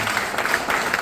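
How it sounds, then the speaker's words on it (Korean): An audience applauding for a pastor during a church mission training school session, a brief, dense burst of clapping at moderate loudness with no talk over it. "우리 목사님 박수 한번 부탁드리겠습니다."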